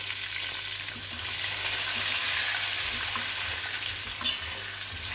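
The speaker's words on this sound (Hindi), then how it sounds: "अंडा को भी हम थोड़ा सा फ्राई कर लेंगे" Eggs seasoned with salt, turmeric and chili powder fry in a pan with a steady, close sizzle, a faint stirring scrape now and then and no talking.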